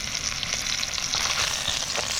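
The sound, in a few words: food sizzling in pan over campfire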